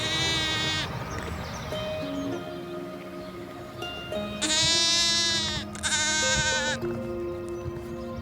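A flock of ewes and lambs on a farm bleats repeatedly. Loud, close calls from several animals overlap over a steady background of softer, more distant bleating.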